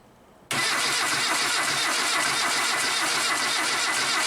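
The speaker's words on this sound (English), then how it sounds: "I'll crank it over, what's going to happen?" The engine of a Reliant 850 trike cranks over and catches after a brief quiet moment, then runs with a loud, steady, raspy mechanical roar close to the listener.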